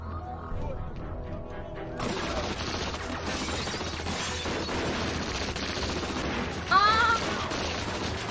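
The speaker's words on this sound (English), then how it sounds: "A lot of people are getting shot." Gunfire from a TV show scene, a burst of loud sharp shots and crashes in a busy, chaotic mix, with people talking and shouting over it.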